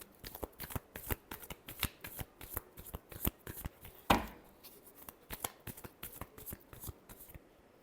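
Tarot cards are shuffled by hand in quick repeated riffles, a close, crisp run of rapid flutters with one louder slap midway, fairly quiet with no talking.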